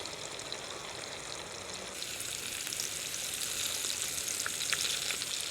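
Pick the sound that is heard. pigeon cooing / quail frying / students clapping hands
quail frying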